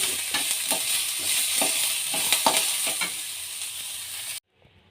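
Cumin seeds sizzle in hot oil for a tempering, a close, steady crackling hiss with small stirring pulses that cuts off abruptly near the end.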